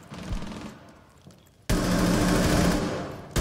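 Gunfire from Buck's weapon in Rainbow Six Siege: a short burst and brief lull, then a loud, sustained rapid-fire volley, up close with no voices.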